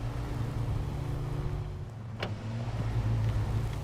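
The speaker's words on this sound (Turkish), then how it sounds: "patinaj yaptık. iyice batacak araba." A truck in the SnowRunner video game grinds its engine at a steady low drone as its wheels spin in deep mud, the tone staying level with a brief sharp click midway, close and continuous.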